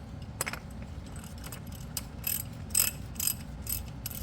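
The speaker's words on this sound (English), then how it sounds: "You can get a wrench inside of here to help you out." Metal wrench ratcheting and clicking as it tightens the oil filter canister on a 2021 Ford Bronco with the 2.7L V6, close and fairly quiet, in short uneven bursts over a low hum.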